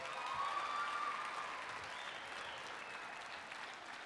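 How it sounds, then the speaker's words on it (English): A theater audience at a youth awards ceremony gives a big round of applause, sustained dense clapping that fills the room and slowly tapers slightly toward the end. "Let's have a big round of applause."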